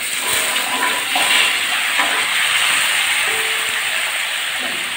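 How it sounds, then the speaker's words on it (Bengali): Cut pumpkin, jackfruit seeds and potato frying in a hot pan over a chili tempering, making a loud, continuous, even hiss of sizzling oil, near and without speech. "এবার দিয়ে দিচ্ছি কেটে রাখা মিষ্টি কুমড়ো, কাঁঠালের বিচি আর আলু,"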